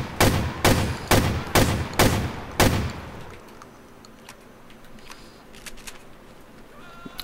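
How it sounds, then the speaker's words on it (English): A Spaz 12 semi-automatic shotgun fires six loud, evenly spaced blasts in a Grand Theft Auto IV mod, then quieter game ambience and small clicks follow. "So now we have the Spaz 12. This is a replacement for the semi-automatic shotgun"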